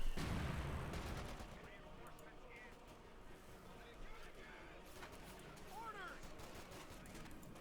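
Gunfire from a Company of Heroes 2 battle, with rattling volleys and scattered bursts, the loudest at the start, then fainter shots continuing beneath the mix at moderate distance.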